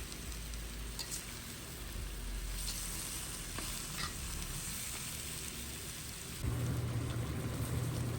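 Chicken pieces with papaya simmer in coconut milk in a pot, giving a steady dense sizzling and bubbling hiss that holds constant and grows slightly louder near the end, with no talk.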